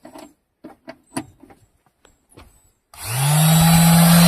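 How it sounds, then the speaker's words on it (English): A newly bought electric sander is switched on after a series of handling knocks and clicks, then runs with a loud, steady whirring drone that holds to the end. "This is a sander that we just bought Jen."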